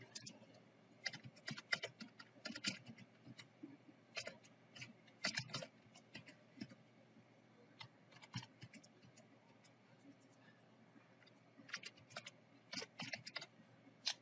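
Keys clatter on a computer keyboard during spreadsheet data entry in a quiet room, bursts of rapid typing separated by pauses, close and fairly soft.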